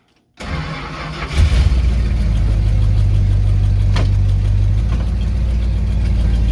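A 1970 Dodge Charger's 413 engine cranks and catches after a moment of silence, then settles into a loud, steady idle with a faint knock, heard alone.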